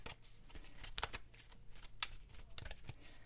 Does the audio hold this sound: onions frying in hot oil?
no